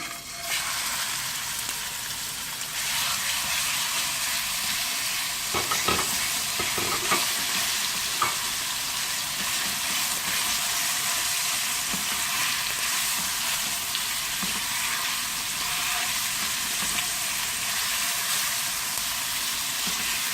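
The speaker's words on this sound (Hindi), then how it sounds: "अब इसमें मैं चिकन डाल लेती हूँ, मैरिनेटेड चिकन" Marinated chicken frying in about two spoons of oil in a kadai, a loud, steady, close sizzle with a dense crackle that runs unbroken throughout.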